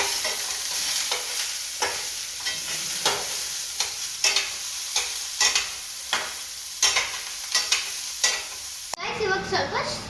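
Vegetables, beans among them, are stirred and fried in a pan on a stove: a steady close sizzle broken by repeated scraping strokes of a spoon, roughly one every second, with a sharper clatter near the end.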